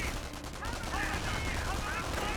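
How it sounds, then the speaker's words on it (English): Gunfire from the Company of Heroes 1 strategy game, a rapid burst of shots and machine-gun rattle layered with other battle noise, fairly distant and continuous. "Incoming gunfire!"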